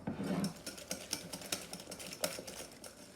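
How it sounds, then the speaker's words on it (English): A whisk beats egg yolk, eggs and brown sugar together in a bowl, giving quiet, rapid, rhythmic ticking and scraping strokes that are close and soft, with no talk. "Using a whisk, combine."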